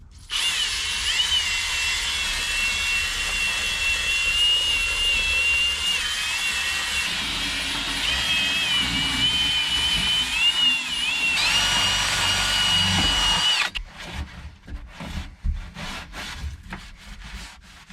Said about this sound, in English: we'll get the good old brush here and just drill the heck out of this thing